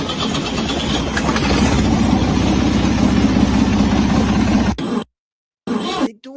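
A submarine's engine is cranked and fails to start, a loud rough rumbling chug that pulses steadily for several seconds before cutting out abruptly, followed by a brief return of noise.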